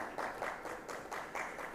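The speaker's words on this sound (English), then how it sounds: "Applause, please." Applause from an audience at a national media conclave, a soft, steady patter of many hands clapping at a distance that continues for the whole clip.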